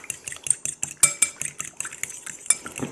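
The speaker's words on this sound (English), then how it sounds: "We're going to whisk that up." A whisk clinks and scrapes rapidly against a bowl, beating a salt and pepper mixture as fried chicken is prepared, with steady close-up rhythmic taps and a few brighter metallic chimes.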